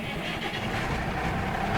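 A tractor engine in a farming video game cranks and fires up, settling into a steady, loud, rumbling run that holds evenly throughout.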